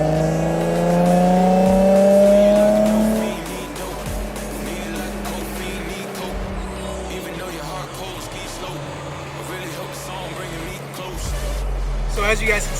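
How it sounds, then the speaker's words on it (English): A Nissan 350Z cruises around town, its engine loud and close with rising revs that settle into a steady drone, with swells and dips as it accelerates and eases off. "So I'm gonna cruise around town."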